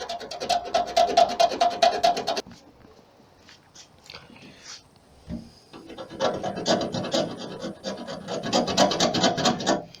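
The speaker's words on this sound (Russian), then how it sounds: "Все это аккуратно зачищаем до грунта, зачищаем лак." Hand sanding of rust spots on a car body, rubbing the paint and clear coat down to primer: close, loud rasping strokes in quick repeated bursts, separated by a quieter pause with small handling noises.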